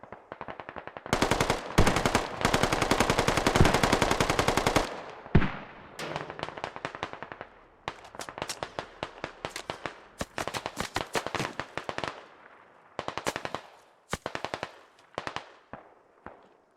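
Mortars and gunfire in a British-versus-Russian online war game event: a long, loud burst of rapid automatic fire, then scattered bursts and single cracking shots that come and go.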